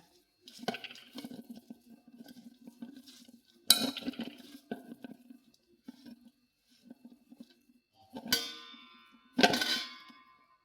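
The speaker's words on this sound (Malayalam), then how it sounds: "അരപ്പ് അരച്ചിട്ട് ഇനി ഒന്ന് ഇളക്കി കൊടുക്കാം" A spoon scrapes and clangs in a pan as taro-leaf thoran with ground spice paste is stirred, in short separate bursts with pauses between, close and fairly quiet, a few sharper metallic clanks standing out.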